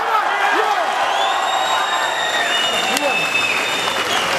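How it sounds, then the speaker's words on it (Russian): An audience at a world powerlifting championship claps steadily with some cheering and whoops, and voices are heard in the crowd. A sustained whistle-like tone runs above the noise. "Аплодисменты!"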